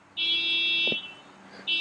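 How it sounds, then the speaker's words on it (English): An alarm horn sounds outdoors, giving a steady, high electronic tone that holds for most of a second, cuts off, then starts again, moderately loud over a quiet background, with no voices. "It sounds like the alarm of a horn."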